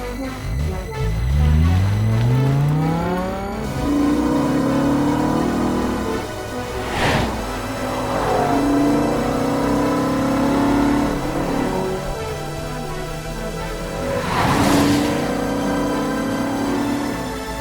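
A BMW M5 Touring with its V10 engine and a manual gearbox revs loudly. Rising and falling engine tones fill the clip, with sharp throttle blips near the middle and again later, over a steady background drone.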